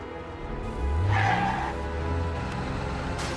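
A car engine revs in the video game Heavy Rain, swelling to a brief rising roar and then settling back to a steady hum, moderately loud with no talking.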